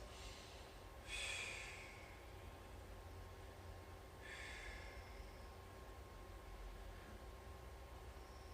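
Breathing during a knee circle mobility exercise comes through as two soft, sharp exhales a few seconds apart, faint above a steady background hiss.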